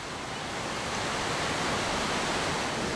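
A large waterfall below the Jostedalsbreen glacier in Norway roars as a dense, continuous broadband rush, steady and loud throughout with no voices.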